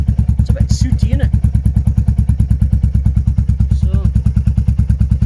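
Royal Enfield Meteor 350 single-cylinder motorcycle idling with its exhaust baffle removed and an aftermarket camshaft fitted, giving a loud, steady, deep thumping beat close by, with someone speaking briefly over it.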